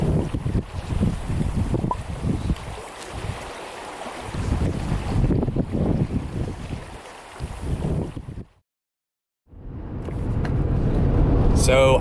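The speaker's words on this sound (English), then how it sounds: "the wind right now is a real hindrance for that" Strong wind gusts outdoors during a western fly fishing trip, buffeting the microphone with loud, uneven low rumbling that surges and eases, briefly cuts out, then roars back.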